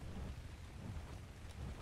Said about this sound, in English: Now then, we still got rain.